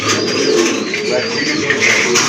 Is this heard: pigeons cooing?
yes